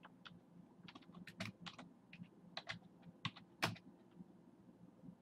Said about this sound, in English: I'll type in the website name